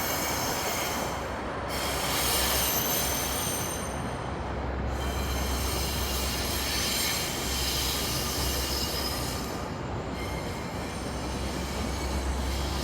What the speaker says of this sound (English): There goes a westbound GO train